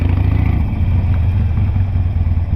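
A Harley-Davidson Sportster 883 motorcycle engine runs steadily up close, a loud, continuous low rumble with a throbbing idle-like pulse.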